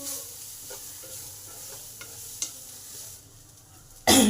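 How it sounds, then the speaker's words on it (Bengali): Banana flower masala sizzles steadily in a pan while a spoon stirs it in repeated scraping strokes, ending in a sudden loud burst of frying near the end. "এবার সমস্ত কিছুকে একটু ভালো করে নেড়ে নেব"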